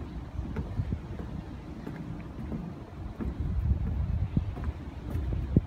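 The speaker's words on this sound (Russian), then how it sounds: "дует ветер в лицо." Wind blows steadily against the microphone on an artificial island by Tokyo Bay, a loud low rumbling buffet with gusts and faint scattered knocks, with no talk.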